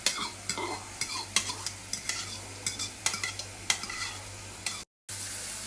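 Saltfish stirred with cabbage in a frying pan, a steady sizzle broken by repeated sharp scrapes and clacks of a utensil against the pan, with a steady low hum beneath and a brief dropout near the end.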